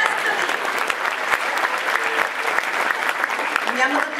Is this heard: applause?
yes